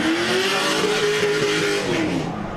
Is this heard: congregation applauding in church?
no